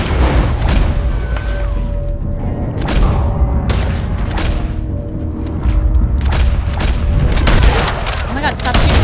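Dense, loud gunfire from a Red Dead Redemption 2 shootout, with overlapping shots, bursts and booms forming a constant barrage for the whole stretch.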